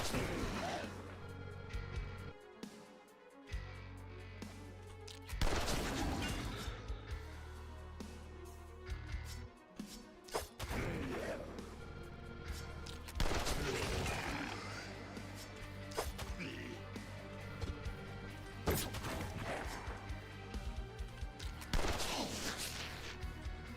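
Mortar fire in The Last Spell, a run of heavy booming impacts and crashes scattered across a busy game soundtrack of rumbling effects and music, with several loud bursts spaced through the stretch.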